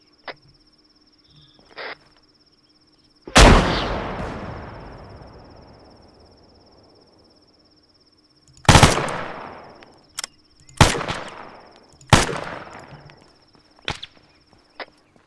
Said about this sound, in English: They're shelling from the little turret.